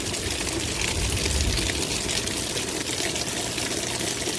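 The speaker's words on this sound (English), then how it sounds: "It's literally like pouring down rain, and I'm getting water in my house." Heavy rain pours down during a thunderstorm, a steady loud broadband wash of water with no break, with water coming into a house.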